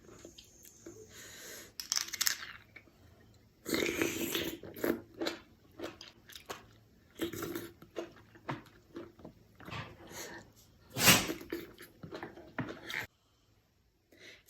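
Blanched cockles being eaten up close, with soft wet chewing, shell clicks and crunchy bites in irregular bursts over a quiet background, no talking.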